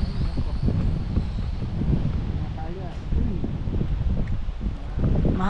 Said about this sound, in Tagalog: Mahangin, hindi niya kaya.